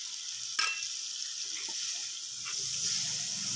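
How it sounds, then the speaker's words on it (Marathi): Water from a glass poured into masala cooking in a pan for a cashew curry, a sharp splash near the start followed by a steady close sizzle and bubbling. "हे 1 ग्लास पाणी सोडून घेतो मी."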